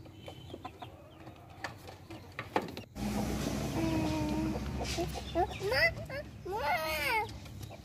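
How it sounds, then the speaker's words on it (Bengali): Small white chickens on a farm cluck and cheep in short, high calls near the close, partly under a person talking over steady background hum. "আমার সাদা যে ছোট ছোট মুরগিগুলো আছে উঠেই পড়েছে, তারা একসাথে খাবে"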